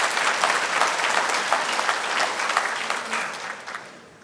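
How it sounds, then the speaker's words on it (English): An audience at a safe driving summit breaks into steady applause, a dense wash of many hands clapping that holds for several seconds and tapers off at the close. "Give him a round of applause."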